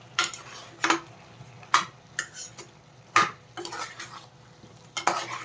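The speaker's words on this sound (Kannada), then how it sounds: "ಈಗ ಇನ್ನೊಂದ್ಸಲ ಮಿಕ್ಸ್ ಮಾಡ್ಕೊಳ್ಳೋಣ ಚೆನ್ನಾಗಿ" Chicken curry stirred in a pan, a spoon scraping and clanking against the metal in about eight distinct strokes, each a brief bright rasp, with a faint simmering hiss underneath.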